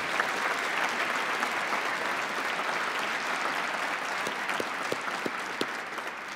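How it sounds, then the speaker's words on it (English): Audience applause at a university ribbon-cutting for an interdisciplinary science and engineering complex, a steady wash of many hands clapping at moderate distance that continues evenly for several seconds. "give her a big round of applause."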